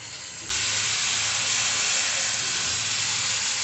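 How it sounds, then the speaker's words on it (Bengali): Spice masala for aloo tandoori fries hard in a pan, a loud steady hissing sizzle that bursts in after half a second and holds constant close up, with no speech. "সমস্তটাকে এবার আমি ভালোভাবে কষিয়ে নেব"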